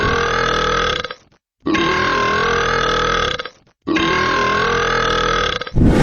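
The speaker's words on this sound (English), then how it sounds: "That's a burp." Three long, loud, sustained belches follow one another with short silent gaps between them, each one rumbling and steady, heard alone with no talking.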